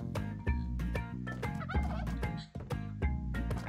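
Turkey gobbling from the video game Spelunky 2 comes through in short repeated bursts over loud, rhythmic game music with thudding beats, with no talking.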